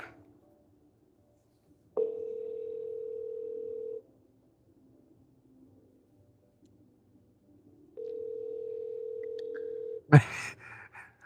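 A telephone tone sounds while a call is placed, two steady two-second tones separated by silence, followed by a brief clatter of handling noise.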